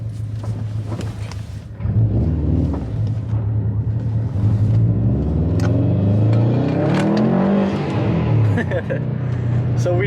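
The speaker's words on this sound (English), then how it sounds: "So we do got the turbo spooling, and the exhaust sounds pretty good." A Subaru STI with a twin clutch kit accelerates on the road, its turbo spooling and exhaust note rising as revs climb, loud and close, with a deep steady drone and someone talking over it.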